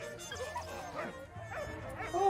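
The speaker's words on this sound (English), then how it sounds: "there's a dog" A dog in the First World War video game Valiant Hearts gives a few short yips and bow-wow barks over game music and background sound, with a voice briefly audible.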